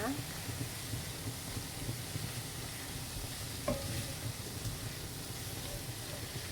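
Shredded chicken being stirred and mixed in a hot pan, with a steady sizzle and soft scraping running continuously at moderate level, close by.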